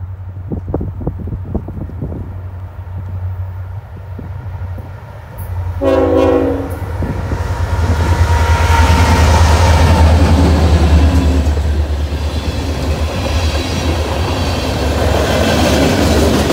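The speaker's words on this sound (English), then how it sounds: "The last train that we saw was CSX Q43 with an SC40-3 trailing." A loud CSX freight train rumbles past close by in Clark, New Jersey, its horn blaring briefly before a long roar of rolling wheels and wind.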